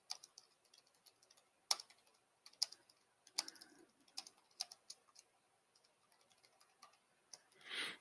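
Computer keyboard typing while a short message is written, with irregular bursts of quiet, close key clicks and brief pauses between them, no voices.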